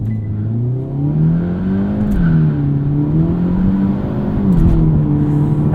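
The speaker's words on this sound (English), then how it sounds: "We activate a launch control here." A 2022 Hyundai Elantra N with a dual-clutch gearbox launches hard under launch control on a salty, dusty road, its engine note climbing loud and steady, dipping briefly at shifts through first and second.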